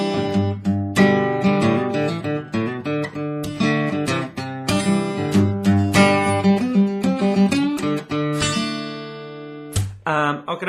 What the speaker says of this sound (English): we're going to look at how to play the intro riff now, which sounds like this